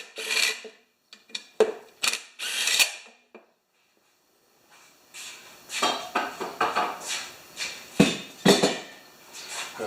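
A 7/16 wrench scrapes and clinks against muffler bolts on a Craftsman 7.75 HP self-propelled lawn mower, with irregular metallic taps and ratcheting bursts, close up, after a brief pause.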